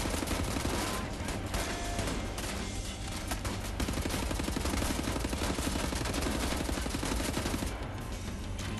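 Rapid, sustained gunfire from the video game Wolfenstein, dense bursts of shots with shotgun blasts and machine-gun fire blending into a continuous loud barrage that runs through the whole stretch.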